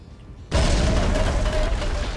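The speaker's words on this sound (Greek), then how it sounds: "Όχι, δυναμίτη! Α, φύγε, τρέχα!" A dynamite blast goes off in the Viscera Cleanup Detail video game, a sudden loud boom after a quiet moment, followed by a sustained rumbling roar.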